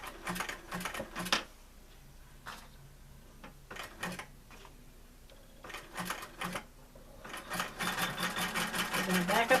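Sewing machine zigzag stitching over the cord ends of a small artisanal coiled basket, in short intermittent bursts with pauses, ending in a longer quicker run, fairly quiet and close.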